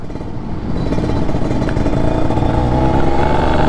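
Kawasaki Ninja RR two-stroke motorcycle engine with a VM28 carburetor and open filter, running in first gear: a loud, close, raspy buzzing drone that builds slightly and holds steady, a little rough and uneven.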